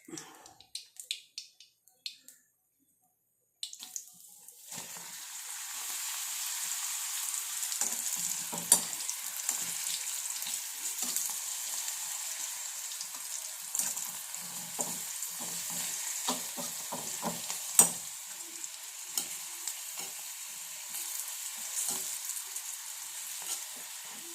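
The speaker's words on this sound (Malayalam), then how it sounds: "ഇങ്ങനെ മാറ്റി മാറ്റി ഇട്ട് കൊടുത്ത് അങ്ങനെ വറുത്ത് വറുത്തെടുത്താൽ മതി" Hot oil sizzles and crackles steadily as papadam fries, with faint scraping and stirring clicks from a metal rod after a quiet start.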